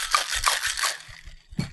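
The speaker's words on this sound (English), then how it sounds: "All right, it should be pretty well shaken." Cucumber lemonade and ice shaken hard in a metal cocktail tin, a run of rhythmic rattling, crunching bursts repeating about every third of a second, close and fairly loud, then a brief pause and one last sharp jolt.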